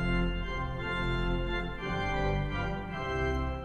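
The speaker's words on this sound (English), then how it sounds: "There's a klein octave," Klein octave 1-foot stop added on the Chancel Organ pipe organ at National City Christian Church, a bright, sustained chordal tone with dense high overtones, held steadily and moderately loud with slight swells, no talking.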